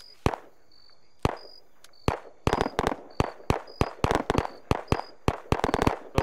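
Gunfire in the military game ARMA 3, heard as loud sharp cracks. Single shots at first, then quicker irregular volleys with echoing tails, alongside faint electronic beeps.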